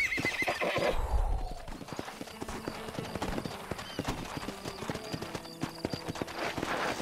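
Horse hooves clop in a fast, steady gallop through a Red Dead Redemption game scene, opening with a loud neigh and snort before the rhythmic beats carry on at close range.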